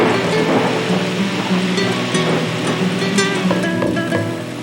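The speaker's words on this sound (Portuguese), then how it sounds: "Essa água que vem de cima é um dilúvio do bem." Heavy rain pours down at the Sucuri River in Bonito, Mato Grosso do Sul, Brazil, in a loud, continuous roar, a dense downpour that stays steady throughout with no voices.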